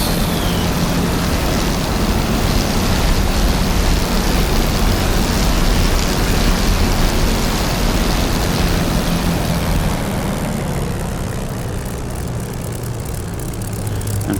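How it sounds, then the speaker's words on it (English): A full-size Spitfire with clipped wings in the DCS flight simulator runs up its engine, a dense steady roar filling the whole clip before easing slightly toward the end. "running up the engine a bit."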